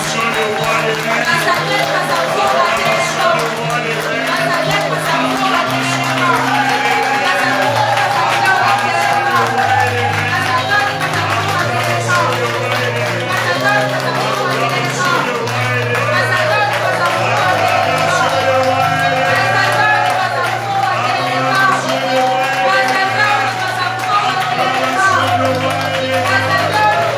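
A church congregation loudly acclaims during a worship service led by a pastor, with sustained cheering and shouting blended with loud music that continues at full level throughout.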